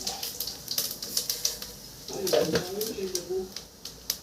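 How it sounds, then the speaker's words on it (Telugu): Cumin seeds drop into hot oil for a Telugu dal khichdi, giving a brief burst of crackling sizzle after a stretch of scattered clicks and ticks, fairly close and moderately loud. "ఆయిల్ వేడైంది, జీలకర్ర వేస్తున్నాను"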